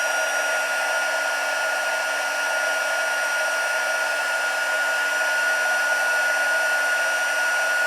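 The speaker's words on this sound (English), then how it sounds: "I'm just going to heat emboss that sentiment there" Heat gun blowing hot air to heat emboss a stamped sentiment on a card, a steady loud hissing whoosh that runs unbroken throughout without any voices.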